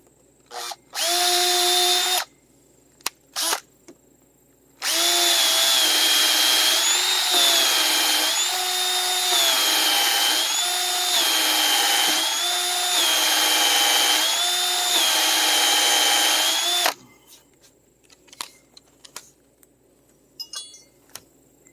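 A cordless drill whirs in two bursts driving into wood timbers, a short one then a long steady run with rising and falling pitch as it bites, followed by faint clinks.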